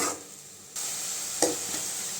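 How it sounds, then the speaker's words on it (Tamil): Puréed tomato sautéing in oil in a pan for Tamil tomato kulambu, a low steady sizzle with a brief stirring scrape partway through, no voices. "தக்காளி நல்லா வதங்கிடுச்சுங்க. பச்சை வாசனையெல்லாம் போகிற அளவுக்கு வதக்கி விட்டாச்சு."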